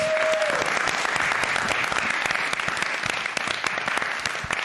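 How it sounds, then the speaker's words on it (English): A studio audience at a comedy game show applauds loudly and steadily, dense clapping sustained throughout without pause. "let's give everybody a round of applause"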